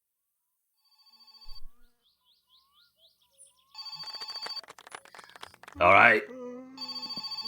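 A telephone in the video game My Summer Car rings in short repeated electronic bursts, mid-level and steady, with someone speaking over part of it and birdlike chirps in the quieter stretches.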